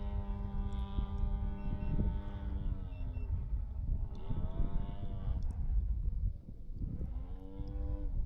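A 104-inch-wingspan Balsa USA Piper Cub RC model with a G26 gas engine and 18x8 propeller idles with a steady low harmonic drone, its pitch wavering and sliding slightly over several seconds, close and continuous with some wind buffeting.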